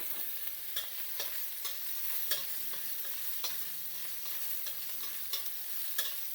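Grated ginger and chilies fry with cumin seed in hot oil for an Indian vegetarian stuffed tomato filling, giving a steady, fairly quiet sizzle broken by regular scraping and clicking stirs, with no voices.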